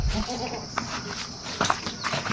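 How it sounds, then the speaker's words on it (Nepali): Goats bleat intermittently amid a noisy outdoor background, a few short calls spread across the moment. "यहाँनिर चाहिँ बाख्राहरू"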